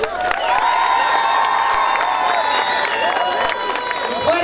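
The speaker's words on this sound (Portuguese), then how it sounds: "Un fuerte aplauso" A large crowd at a public event applauds and cheers loudly and continuously, with whoops and shouts over the clapping while an announcer speaks through a PA.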